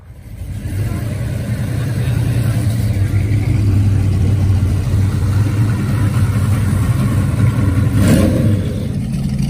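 Nissan Z32 with a factory V6 VG35 engine, a loud, steady engine roar held near the microphone, with a brief louder swell near the end.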